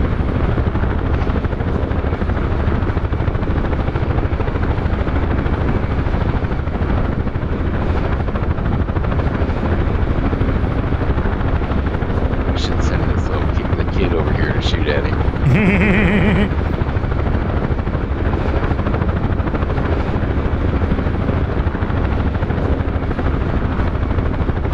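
A UH-1H Huey helicopter flies in the DCS combat simulator on a Cold War server, with a loud, steady rotor and engine drone that fills the whole stretch while voices talk over it.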